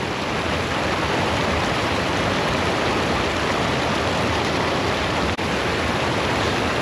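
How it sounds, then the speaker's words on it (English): Small waterfall on a stream in Ohio or West Virginia, a steady broadband rush of falling water that stays loud and unbroken throughout, with no voices over it. "Figured it had to be right around this little waterfall."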